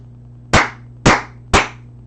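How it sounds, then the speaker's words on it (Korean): Three sharp, loud hand claps about half a second apart, each a single crisp smack over a low steady hum, with no other sound between them. "박수를 쳤습니다."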